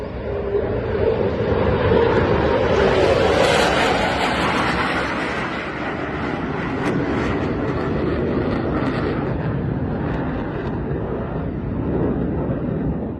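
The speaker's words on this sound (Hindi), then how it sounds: "पाकिस्तान एयरफोर्स के जो एयरक्राफ्ट हैं उसके विंग्स के साथ उसको एस्कॉर्ट करते रहे।" Pakistan Air Force aircraft flying as escort, a loud, steady jet roar that swells and then holds as a broad, continuous rumble throughout, with no talk.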